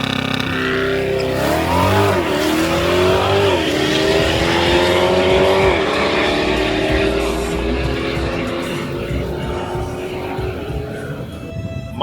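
A Corvette C8 E-Ray coupe accelerates hard on a dig-race practice run, its engine note climbing through gear shifts, loud and close, then fading.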